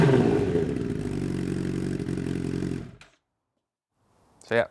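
A Honda CBR1000RR Fireblade motorcycle engine with an aftermarket Delkevic exhaust runs loud and rough for about three seconds, then cuts out to silence before a brief voice is heard.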